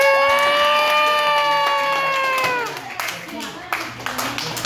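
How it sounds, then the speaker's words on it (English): A group of school teachers starts clapping hands together after a long, loud held shout, the applause scattered and moderately close as it trails off. "So we need to give yourselves a clap"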